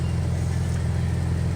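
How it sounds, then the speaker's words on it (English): A 30-year-old vehicle sits with its transmission engaged and straining slightly to creep forward, giving a steady, loud low-pitched engine rumble that holds constant throughout without breaks. "all you can hear is the transmission going into gear and it trying to move a little bit"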